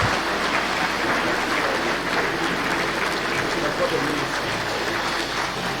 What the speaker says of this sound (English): Round of applause as we begin these important deliberations.